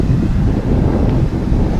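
Steady wind buffeting a microphone, a continuous low rumbling roar with gusty fluctuations and no voices.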